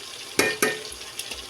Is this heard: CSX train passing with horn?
no